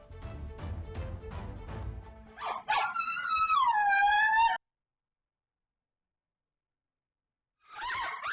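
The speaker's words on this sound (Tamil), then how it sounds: "தெருவில் விளையாடிக் கொண்டிருந்த குழந்தையை தெருநாய் துரத்தி கடிக்கும் அதிர்ச்சி காட்சிகள் வெளியாகியுள்ளது" Street dogs chasing and biting a child on a street in Chennai, heard as a dog's rapid, loud barking, then a drawn-out howl or whine, a few seconds of silence, and another whimpering cry at the end.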